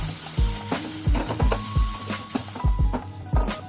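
Vegetables for street-style veg chowmein sizzle in a hot pan while a utensil stirs and scrapes in quick, uneven knocks over the constant frying hiss.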